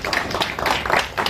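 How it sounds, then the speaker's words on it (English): An audience at a community event claps together, a steady dense patter of many hands with uneven swells, fairly close and loud. "Can you clap hands for yourselves?"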